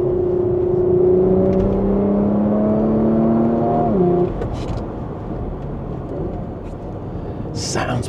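A Porsche Macan GTS engine revs hard with rising harmonic tones, then drops off as the gear shifts, leaving a lower rumble and road noise.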